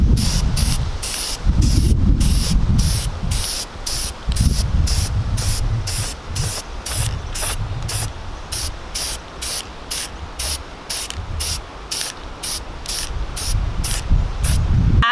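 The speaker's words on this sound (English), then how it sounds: "spray it on in light coats 10 to 12 inches from the surface" Repeated short bursts of aerosol spray hiss in a steady rhythm, close by, as wood stain is sprayed in light coats from 10 to 12 inches away, with low rumbling handling noise underneath.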